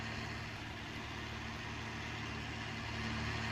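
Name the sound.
tractor engine while ploughing, Farming Simulator 19 video game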